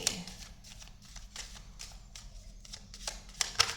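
Tarot cards shuffled and drawn from the deck, a series of soft papery riffles and flicks close by, with a few sharper snaps toward the end and faint talking underneath.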